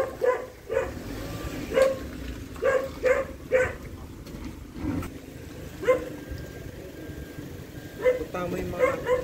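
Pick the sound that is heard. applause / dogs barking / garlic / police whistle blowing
dogs barking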